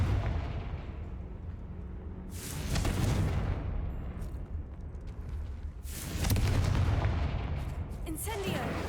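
In Hogwarts Legacy, the Confringo explosive spell goes off in the catacombs as two heavy blasts a few seconds apart, each a broad booming burst that rumbles and fades, over low ambient game sound.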